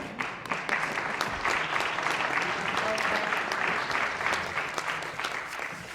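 Audience applause at the 2019 Wongu University graduation ceremony, a dense, sustained clapping that holds steady for the full stretch with sharper individual claps standing out.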